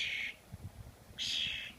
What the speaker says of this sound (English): I think this bird thinks I'm its mama.